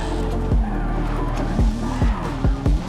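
A car braking hard in Forza Horizon 5 during live RWD tuning, its engine droning steadily while tyres squeal and skid, with several repeated thumping bumps spaced through the slide.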